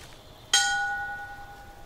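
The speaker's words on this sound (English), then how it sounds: "Let's ring the bell." A single bell rings once in The Walking Dead: The Final Season video game, a sharp metallic strike with a long ringing decay and no talk over it.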